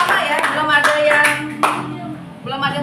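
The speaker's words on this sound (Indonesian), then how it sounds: "tepuk tangan buat semuanya" Applause in a school classroom, a burst of quick hand clapping from a group of students that thins out, with voices mixed in.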